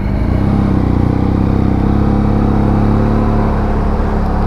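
A BMW F800GS adventure motorcycle being ridden, its engine droning loud and steady at close range with a constant whirring hum and little change in pitch.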